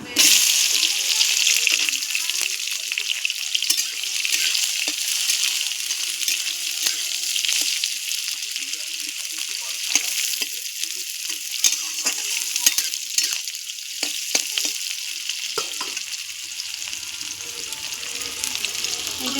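Onion goes into a hot pan for crab curry with a loud, dense sizzle that lasts throughout and fades slowly. Scattered stirring clicks and scrapes sound over it.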